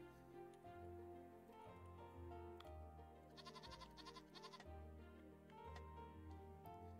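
Goats bleat in the Equilinox video game over steady, layered background music, the calls mixed fairly low and repeating at irregular moments across the stretch.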